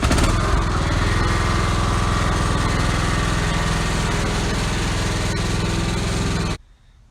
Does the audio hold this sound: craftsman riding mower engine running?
yes